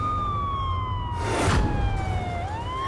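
A police car siren wailing in a Gujarati TV drama, a clear steady tone gliding slowly downward then rising again, heard at moderate distance over a low background hum with a brief rushing noise in the middle.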